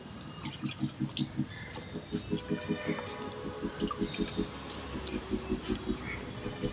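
Water glugs and splashes as it is poured into a bottle during a water-filling game, with rhythmic bubbling pulses and drips heard up close while people talk and cheer over it.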